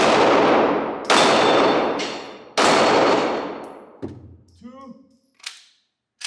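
Three loud, sharp shots come from a Glock 45 pistol fired at steel targets, each one ringing out and decaying. After them come fainter metallic clangs and rattles as the steel plates swing.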